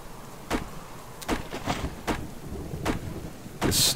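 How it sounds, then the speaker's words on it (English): A thunderstorm with rain in the survival video game Subsistence: a steady rain hiss is broken by a series of short, loud cracks and rumbles every second or so, with no voices. "Storm is a little bit too much."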